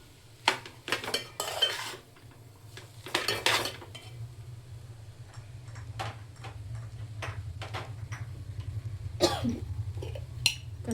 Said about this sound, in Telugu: ఇది వేసుకుంటున్నా కొంచెం నేను. తర్వాత బాగా మిక్స్ చేసేసుకుంటా.